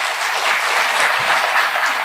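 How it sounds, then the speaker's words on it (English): An audience at the Taste of Africa event in St. Albert claps together, a bright, even patter of many hands that stays close and steady throughout, with no talking over it. "I want to hear a clap if you've been to this event before"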